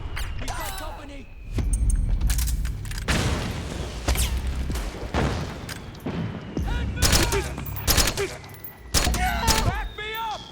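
Gunfire in the Metal Gear Solid 4 video game, with repeated bursts and bangs alongside mechanical clanks, loud and close, while voices talk and shout between the shots.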